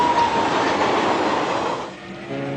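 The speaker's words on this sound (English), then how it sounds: "Tanks and other heavy equipment are moved in by train from Poland." A freight train carrying tanks and heavy military equipment from Poland rolls past in a continuous rumbling clatter that fades near the end, leaving a faint steady hum.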